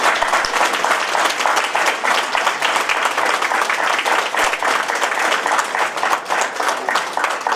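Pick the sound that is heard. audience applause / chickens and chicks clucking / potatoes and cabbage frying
audience applause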